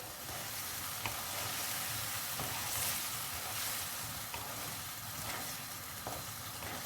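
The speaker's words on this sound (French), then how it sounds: "je vais laisser encore cuire un petit peu" A sauce made with chicken broth and tomato paste simmers and sizzles in a pan, giving a steady, close hiss with faint bubbling and occasional soft ticks throughout.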